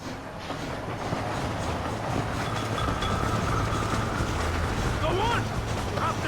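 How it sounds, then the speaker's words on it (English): A train rumbles past in the Red Dead Redemption video game, a steady loud rolling drone with rhythmic low thumps and a brief squeal near the end, with a voice over it. "You have to go out there and stop the train before it crosses the bridge."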